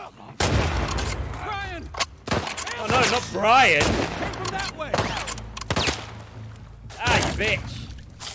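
Gunfire in The Last of Us Part II breaks out in sharp bursts and single shots over about eight seconds, mixed with loud shouting voices that cover much of it.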